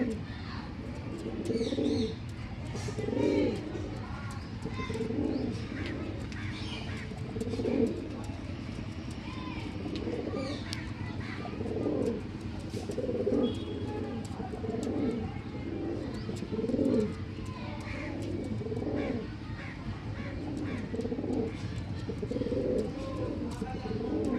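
Pigeons from a breeding line of show birds coo over and over in low, throaty rolls, close by and fairly steady, with chirps mixed in.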